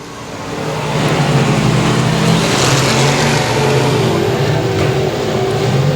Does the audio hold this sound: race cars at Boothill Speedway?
yes